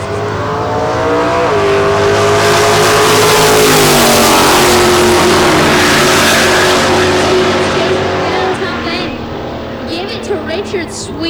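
Bill Stevens' Camaro drag racing down the strip at a Michigan nitro event, a loud roaring acceleration that swells and pulls away, with an announcer talking over it and crowd noise at the end.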